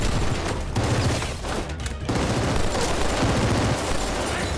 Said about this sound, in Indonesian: Lalu dia memberontak dan terjadi adu tembakan di sana.